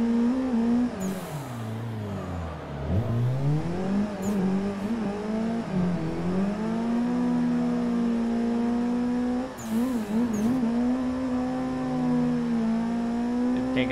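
A drifting car's engine revs hard and varies in pitch as the driver kicks the clutch, with sharp dips and climbs, loud and close, alone throughout.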